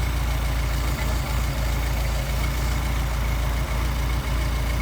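A Mercedes 190SL engine on Solex carburettors idles at around 700 rpm in a steady, loud, close-up rumble with a faint rhythmic pulse, and no voices.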